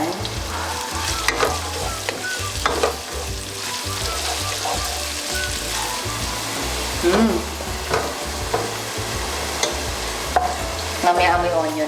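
Garlic and white onions sizzle in a hot pan for beef kaldereta, a continuous close crackle broken by repeated scraping stirs of a utensil against the pan, with no voices.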